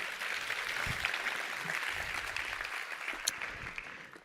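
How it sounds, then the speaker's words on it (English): Applause at a telehealth conference session after a tribute to an epilepsy patient advocate, a modest, steady spatter of hands from the audience that carries through without much swell or fade. "Round of applause for Tori"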